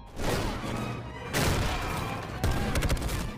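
Gunfire in an action film fight scene, with dense bursts of rapid shots and crashing impacts layered over a loud, busy soundtrack, closing with a quick volley.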